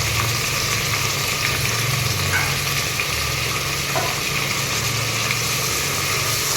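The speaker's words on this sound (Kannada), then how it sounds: "ಈರುಳ್ಳಿ, ಹಸಿಮೆಣಸಿನ್ಕಾಯಿ, ಆಲೂಗಡ್ಡೆ ಎಲ್ಲ ಚೆನ್ನಾಗಿ ಫ್ರೈ ಆಗಬೇಕು." Onion, green chilli and potato fry in a hot pan, giving a steady loud sizzle without a break, with faint scraping from stirring.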